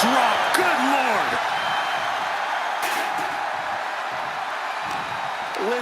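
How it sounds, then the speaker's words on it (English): A dense, steady roar from an arena crowd in the WWE 2K25 wrestling video game runs throughout, with some whoops and a brief slam, as a voice talks over it. "Listen to this crowd."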